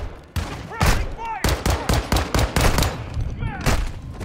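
Gunfire in the shooter Call of Duty: Modern Warfare II, a loud, close series of sharp shots in an irregular volley, mixed with game sound effects and voices during the firefight.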